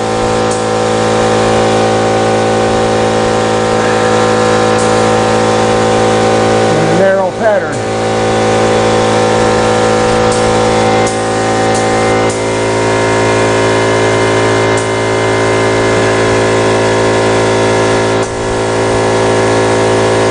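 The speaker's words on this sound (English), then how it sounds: "8 or 10 gallon compressor" An 8 or 10 gallon air compressor running steadily with a loud, constant motor drone and hum close by, briefly disturbed by a short rattle midway.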